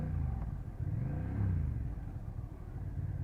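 Engine of a 2024 Honda Rebel 1100 motorcycle rumbling low and steady while the rider struggles to find second gear, with the revs rising and falling.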